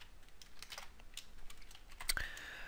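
Quiet keystrokes on a computer keyboard, a scattered run of light taps with a louder clack near the end.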